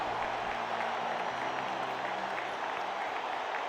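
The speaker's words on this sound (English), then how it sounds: "the crowd applauded wildly, screaming and cheering" A crowd applauding and cheering at a concert in a video game after a song ends: a dense, steady wash of clapping that fills the whole stretch without a break.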